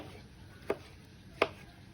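Two sharp knife chops through tomatoes strike a cutting board about a second apart, fairly close in a quiet room.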